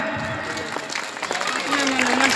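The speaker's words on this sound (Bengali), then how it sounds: "সবাই জোরে করে একটা হাততালি দেবেন" Audience applause at an Islamic gathering in Bangladesh: a steady, dense patter of many hands clapping that lasts throughout, with voices and some tonal sound mixed in beneath it.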